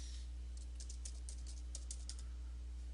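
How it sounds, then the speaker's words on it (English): Quiet clicking of keys on a computer keyboard, a short burst of light taps with uneven rhythm, faint and close over a steady low electrical hum. "you can type in a new name here"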